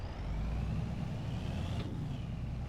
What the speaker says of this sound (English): The tractor is ready to go.